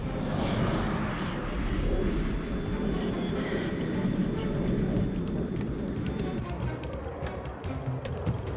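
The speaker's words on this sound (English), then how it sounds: "Here, a squadron of F-15 search enemy territory for potential targets." A squadron of F-15 fighter jets flies overhead in a steady, loud engine roar that runs unbroken with rushing air, with no talk.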